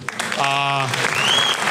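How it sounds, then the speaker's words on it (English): During a stand-up comedy set in Uganda, an audience claps for journalists, a burst of applause mixed with shouts and a brief tonal voice over the crowd. "If there are any journalists in the house, let us first clap for them."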